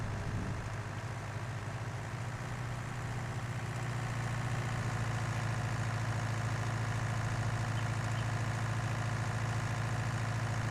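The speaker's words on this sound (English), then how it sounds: "this tractor is definitely capable of pulling this trailer." Farming Simulator 19 tractor engine hauling a fully loaded trailer on the Ravenport map, a steady low droning rumble holding constant and loud throughout with no talk.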